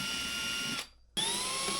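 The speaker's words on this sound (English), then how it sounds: "So I'm going to be drilling these out a little bit larger" A power drill enlarges holes in a boat's engine room, a steady high whine that cuts out briefly and then starts again at full speed.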